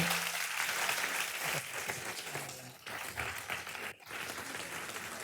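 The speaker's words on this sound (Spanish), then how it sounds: "Un aplauso para este quinteto estupendo." An audience applauds a quintet at a FIAP public-talent event on multilateralism, a steady, dense wash of many hands clapping, fairly soft and continuous, with no voices over it.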